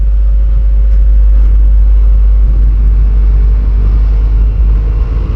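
Vespa GTS 300 70th Anniversary scooter engine pulling hard under acceleration, a loud, steady low rumble heard up close while riding, with no talk.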